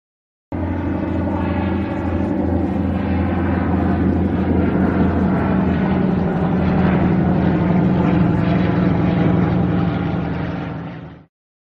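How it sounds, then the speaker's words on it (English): A loud, continuous air tanker aircraft engine drone with a deep propeller rumble, steady throughout and ending abruptly, with no voices. "Air tanker."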